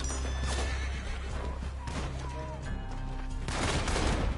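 Horse in Red Dead Online gives a loud, shrill whinny, followed by a second neigh later on, over game background noise with brief crashing sounds.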